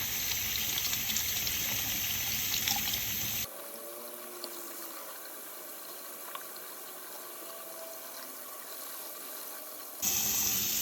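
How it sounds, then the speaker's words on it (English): Warm water runs steadily over a shower filter, a continuous hiss of flow that changes tone partway through as the stream hits differently, with no talking. "Step one is to run the filter through warm water for 60 seconds on each side."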